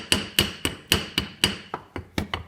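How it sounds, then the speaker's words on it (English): Hammer striking wire on a hard surface to flatten a barb for a survival fish hook: about ten sharp metallic blows in a steady, fairly quick rhythm, close and clear with no talk. "You hammer it down."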